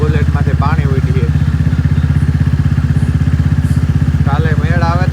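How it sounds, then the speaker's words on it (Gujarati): Royal Enfield Bullet motorcycle ridden slowly through rainwater on a flooded village road, its steady thumping single-cylinder beat loud and continuous throughout, with someone talking over it at the start and end. "આપણે ધીરે ધીરે હાંકીએ વરે બુલેટમાંથી પાણી ઉડીએ."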